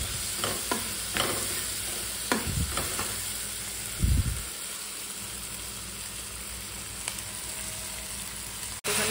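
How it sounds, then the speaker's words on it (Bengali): Ground spices being stirred and sautéed in a pan for a home-cooked Bengali dish, with a steady low sizzle, scraping stirs, and a brief louder splash midway as water goes in. "ভালো করে কষিয়ে একটুখানি জল দেব, যাতে এই মশলা গুঁড়োগুলো যাতে না লেগে যায়"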